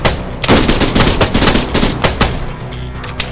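Heavy, continuous automatic gunfire in Arma 3, dense rapid bursts of loud shots rattling close by with no talk over them.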